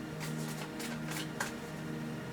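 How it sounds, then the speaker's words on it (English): Tattoo Tarot cards being shuffled by hand, a soft papery riffling in several quick bursts over a steady low hum, close and fairly quiet, with no talking. "I am shuffling the Tattoo Tarot for your tarot spread."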